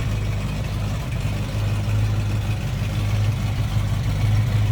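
Engine of a 1968 Ford Mustang Sprint 2-door hardtop idles steadily, heard from behind the car with a low, even rumble and a gentle pulsing beat, close and unbroken, with no voices.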